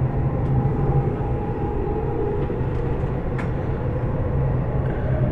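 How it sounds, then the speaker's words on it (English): A Dubai Metro train rumbles along steadily from inside the carriage, a continuous dense roar with faint rattles and no voices. "This is the metro train,"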